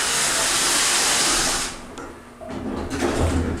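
Door operator on a Payne elevator running, a loud broadband whooshing rush of motor and door movement that cuts off partway, followed by quieter clunks and rattling as the doors settle.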